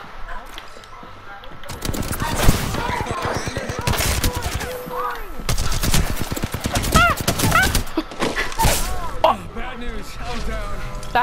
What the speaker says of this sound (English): Did everyone just shoot at me?